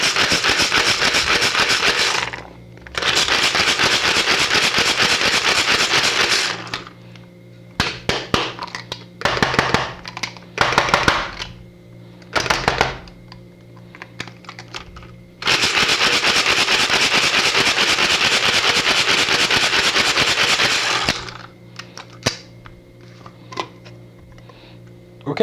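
A manual pull-cord food chopper minces ingredients for salmon tartare in long whirring bursts alternating with quieter rapid clicking pulls, loud and close.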